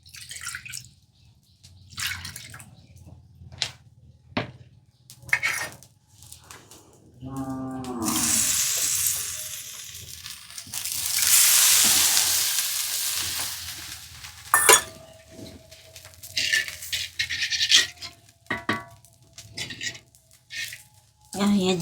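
Water is poured into a fish curry frying in a pan. After scattered clinks and taps, a loud hissing sizzle surges up and holds for several seconds, then eases back into quieter clatter.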